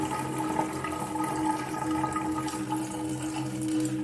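Water pouring down from rooftop storage drums inside an abandoned house, a steady, close rushing and splashing flow that carries on without a break and with no voices.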